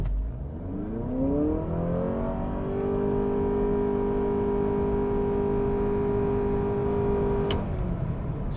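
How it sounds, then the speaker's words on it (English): A 2023 Honda Accord Touring hybrid sedan in sport mode launches from brake torque, its engine note climbing quickly and then holding a loud, steady drone for several seconds before cutting off. "So we're gonna brake torque it, it's in sport."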